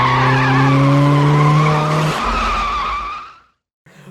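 A Trans Am skids in a film scene, its tires squealing loudly in a long sustained screech that fades out, followed by a short burst of noise after a brief silence.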